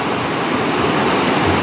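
Cold, clear mountain stream water rushing steadily over rocks, a continuous broadband wash close by with no pauses and no voices.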